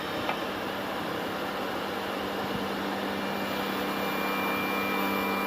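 DeWalt 60V cordless table saw fitted with a 7 1/4 inch Diablo blade cutting, a steady loud whirring roar with a constant hum, continuous and close with no talk.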